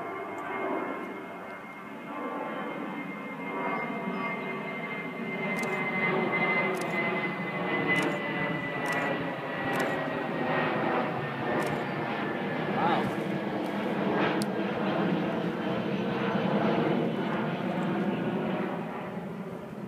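A JetBlue jet airliner in the special I Love New York livery at JFK airport gives a steady, loud engine roar that swells slightly and holds for the full twenty seconds, close and continuous.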